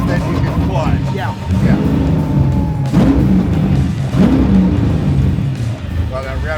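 A 700 hp Chevy C5 Z06 Corvette revs hard through a rev-matched sequential shift, its engine note sweeping up and down in loud repeated surges while people talk close by.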